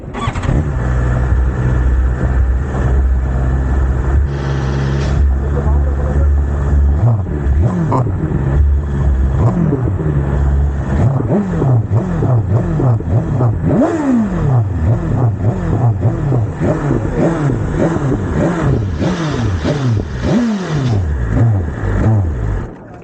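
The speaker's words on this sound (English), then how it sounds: "rev it one more time?" A BMW S1000RR sport bike engine is revved repeatedly and hard, with rising and falling sweeps over a steady loud idle, sounding close and dominant with no talking.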